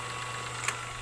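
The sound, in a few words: engine of a disinfectant sprayer running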